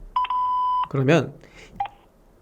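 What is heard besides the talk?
telephone keypad dialing tones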